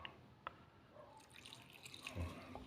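A little vinegar is poured into a cooking pot of adobong takway, heard as faint, scattered drips and soft trickles in a quiet kitchen.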